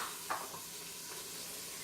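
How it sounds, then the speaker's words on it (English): Flour-dredged cubed steak sizzles steadily in a hot pot, giving a soft continuous hiss with a couple of faint scraping stirs near the start, fairly quiet and without talking. "Now it's hot. You can hear it sizzling."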